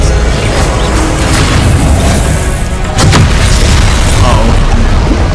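Confringo explosion spell in the Hogwarts video game: a deep, loud, continuous booming roar fills the clip, with one sharper burst near the end and layered game effects over it.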